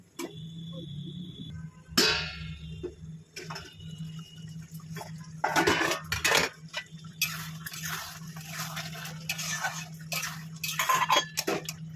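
A lid is set onto a cooking pot of simmering mixed vegetables, making a clear metallic clatter followed by scattered clinks and light rattles against a low background hum.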